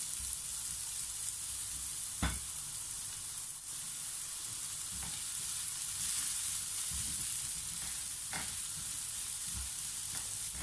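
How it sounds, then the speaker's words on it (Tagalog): Onion and garlic sauté in a pan with a steady, close sizzle and hiss throughout, broken by a few sharp scraping stirs of a utensil. "ituloy po natin ang ating paggisa hanggang sa lumabas ang aroma ng ating sibuyas at bawang"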